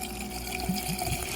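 Water gurgles and splashes steadily as a pump pushes it through a car's cooling system during a Coyote engine swap, a close, continuous liquid churn with small bubbling pops.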